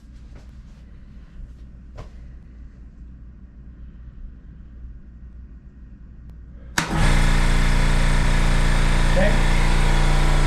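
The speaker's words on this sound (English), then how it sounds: "we're gonna go ahead and turn on the compressor right now." After a quiet stretch with faint clicks and a brief spoken word, an air compressor kicks on abruptly, its loud steady motor drone and hum filling the rest of the clip.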